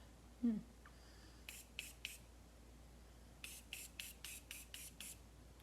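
Setting spray with a floral scent is misted from a pump bottle in two bursts, first three quick puffs and then a run of about seven rhythmic sprays, close and fairly soft against a quiet room.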